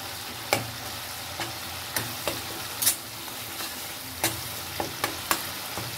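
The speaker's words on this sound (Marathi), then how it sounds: "तर पण अजून मी 1 मिनिट अजून परतून घेणार याला" Masala paste fries in oil for a surmai fish curry, a continuous soft sizzle punctuated every second or so by sharp spoon scrapes against the pan.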